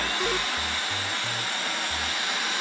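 An LG CordZero cordless stick vacuum cleaner runs with a steady, fairly loud whirring motor hum and broadband airflow hiss throughout, alone with no talking.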